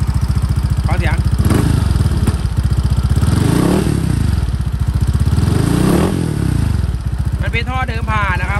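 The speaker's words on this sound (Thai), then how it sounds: "สตาร์ทนิ่งๆเลยนะเอาเสียงนะครับเครื่องยนต์แบบเลยว่านิ่งมากเดินเบานิ่งๆเลยครับ" A Honda PCX150 scooter engine with stock exhaust idling close by with a steady, rapid low putter, rising briefly a few times, while someone talks over it.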